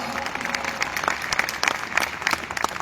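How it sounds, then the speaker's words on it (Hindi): An audience at a company call or meeting claps together, a steady wash of applause with sharper individual claps standing out, moderately loud and slightly distant, with talk underneath. "जोरदार तालियां चाहूंगा महागुरु जी डॉक्टर संजीव सर के लिए"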